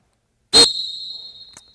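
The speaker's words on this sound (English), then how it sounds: "you get a much sharper sounding whistle" A hand whistle blown with a sharp tongue release gives one loud, piercing blast with a hard attack, a sustained shrill tone that fades away, and a brief second chirp near the end, with no one talking.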